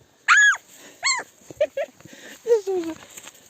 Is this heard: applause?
no